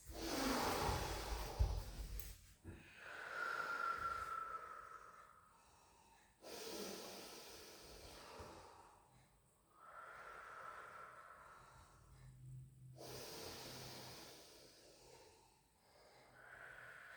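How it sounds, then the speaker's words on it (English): Slow, deep breathing during a Pilates rehab exercise, close and soft, with four or five long breathy inhales and exhales spaced a few seconds apart. "taking some lovely deep in-out breaths"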